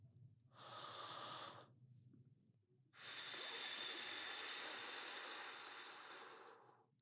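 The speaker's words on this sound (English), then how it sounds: "We're going to inhale air through our mouth and exhale." A person breathes in through the mouth and out, a short airy inhale followed by a pause and a longer, louder, hissing exhale, close and alone.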